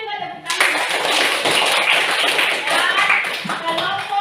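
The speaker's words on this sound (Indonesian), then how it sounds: "Berikan juga tepuk tangan." Students in a junior high school civics classroom clap their hands together in a loud, sustained round of applause that starts after a brief pause and carries on steadily for several seconds.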